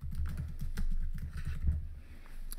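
Fingers type a search term on a computer keyboard in a steady run of quick key clicks, close and fairly loud, with no one speaking.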